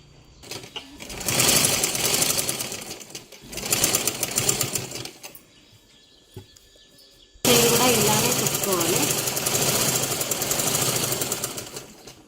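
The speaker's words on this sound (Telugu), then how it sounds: "అటు సైడ్ కూడా ఇలానే కుట్టుకోవాలి" Sewing machine stitching the side seam of a blouse, loud close bursts of rapid needle clatter in three runs separated by a quiet pause.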